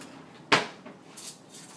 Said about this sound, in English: Grabbing a spoon.